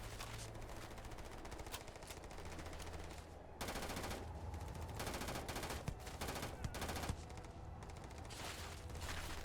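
Rapid, sustained automatic gunfire rattles through a firefight in the game Starfield, dense bursts with short gaps and occasional sharper shots, loud and continuous throughout without audible talk.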